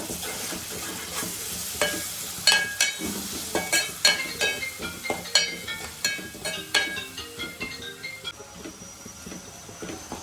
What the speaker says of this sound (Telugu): ఇదైతే చక్కగా వేగుతుంది మంచి స్మెల్ వస్తుంది గరం మసాలా వేసేసరికి